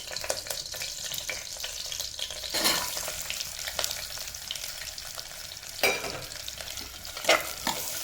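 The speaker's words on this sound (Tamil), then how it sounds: "இந்த பொரிஞ்சு அந்த வெங்காயத்தை போட்டுருவோம்." Onions fry in hot oil with cinnamon, bay leaves and cloves as the base for a mutton trotter curry, a close, bright sizzle broken by several sharp stirring scrapes.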